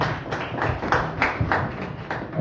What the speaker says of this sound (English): let's quickly give them a round of applause for that